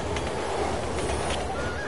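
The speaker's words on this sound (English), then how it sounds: "Train." A train in Resident Evil 6 rumbles past, a dense, loud steady roar with rattling noise and faint honking tones, continuous for the whole moment.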